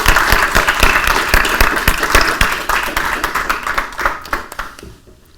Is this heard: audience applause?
yes